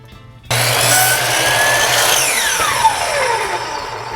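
A compound miter saw starts abruptly and cuts through wood, loud and close, its broadband whine and cutting noise sustained for several seconds with a descending tone as the blade spins down, no talk.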